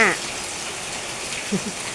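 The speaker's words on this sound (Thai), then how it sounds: "ตกได้ตกดีนะจ้าฝน ไม่รู้จะตกไปถึงไหนเลยค่ะ" Heavy rain falls under a dark sky, a steady, dense hiss of drops with no let-up, and brief faint voice-like sounds at the start.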